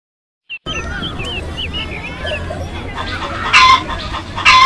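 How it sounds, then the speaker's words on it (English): A hen clucks on a farm, with several short, bright calls early on, then louder, clustered clucking bursts toward the end over a low background rumble. "H for hen."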